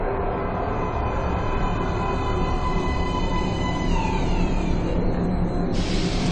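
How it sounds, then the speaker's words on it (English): A metro train pulls into a platform in the video game Metro: Last Light Redux, with a steady rumbling roar and high screeching rail tones that shift in pitch, ending with a hissing burst. "Train coming in."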